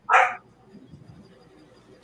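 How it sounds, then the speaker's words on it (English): A puppy gives a single short, loud bark near the start, and the rest is quiet backstage room tone with a faint sound at the end. "Sorry about the puppy noise"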